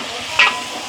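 Potatoes sautéing in a pan in a home village kitchen, a steady soft sizzle with a brief louder stir or hiss burst in the middle of a short moment.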